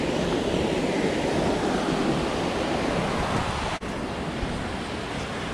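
A large creek in a Pennsylvania canyon along the Turkey Path Trail rushes steadily, a loud, constant broadband wash of flowing water close by, with one brief dip near the end.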